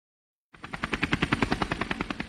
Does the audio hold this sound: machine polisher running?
no